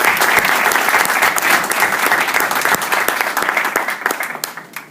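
An audience at a citizen-participation panel discussion breaks into sustained, dense applause, loud and continuous for several seconds before thinning out toward the end.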